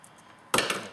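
A single sharp snip as wire cutters bite through wire during an alarm remote start installation, one brief crisp click-crunch close by with no talk.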